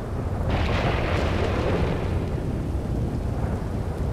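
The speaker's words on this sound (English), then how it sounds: "Any minute now, the storm will subside" A thunderstorm rolls on as a deep, sustained rumble of thunder. It swells loudly after a brief start, with a hiss of heavy rain underneath, and no voices can be heard.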